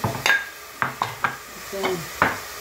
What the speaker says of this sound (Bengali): তাতে চিকেন আর ভেজিটেবল মিলিয়ে পোলাওটা করছি।